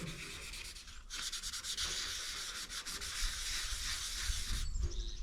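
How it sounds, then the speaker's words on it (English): Sandpaper rubbing steadily across the epoxy-sealed hood of a 1941 Chevy truck, a continuous close scratchy hiss with brief pauses and rhythmic strokes, alone without talk. "you can see how the sandpaper loads up pretty fast"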